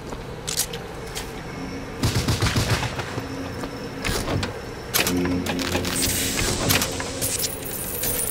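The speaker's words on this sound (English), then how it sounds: "Firing fireworks!" Fireworks launching in Bioshock, a loud continuous rattle of bursts and crackles with sharp booming onsets, dense and busy throughout with no pauses.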